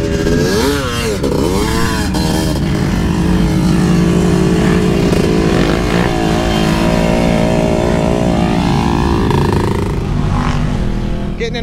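Sport quad ATVs, including Quadzillas and Quadracers, rev hard at Silver Lake Sand Dunes, loud overlapping engine howls rising and falling with sharp throttle blips and long sustained pulls.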